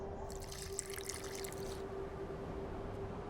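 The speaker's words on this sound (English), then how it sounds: "Okay, so add water." Water poured into a mixture in The Witcher 2, a soft, close splashing trickle for about a second and a half before fading into a steady low hum.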